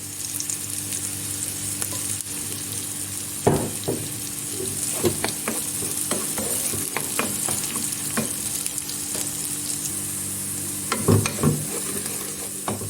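Onions sauté in oil in a pot for soup, with a continuous close sizzle broken by irregular spoon scrapes and knocks against the pan and a low steady hum beneath. Nobody speaks.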